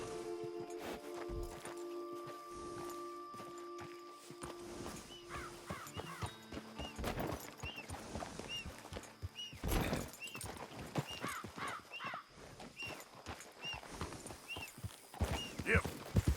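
Horse hooves clip-clop in Red Dead Redemption 2, a rhythmic run of hoofbeats with a whinny and birds cawing in the background, fairly faint overall, under occasional brief speech.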